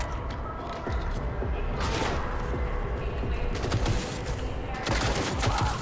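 Heavy machine gun fire in Cyberpunk 2077, sustained bursts of loud gunfire with booming impacts, fairly close and dense throughout, a faint voice occasionally underneath.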